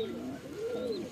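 A pigeon coos softly in two low, rolling phrases, fairly close, with faint background hiss.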